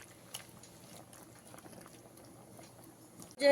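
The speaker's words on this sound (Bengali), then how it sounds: "অল্প সময় ফুটিয়ে নেব রান্নাটা" A jackfruit and prawn curry simmers in a pot, giving a soft, steady bubbling and faint popping that continues evenly throughout, with a louder clatter right at the end.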